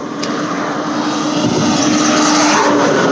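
Trucks pass close by on a road, a loud broad roar of engines and tyres that swells steadily and stays dense throughout, with no one talking.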